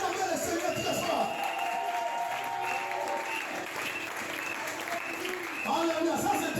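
A church congregation applauds and cheers the Lord at a worship service, a dense steady wash of clapping and crowd noise lasting throughout with voices mixed in.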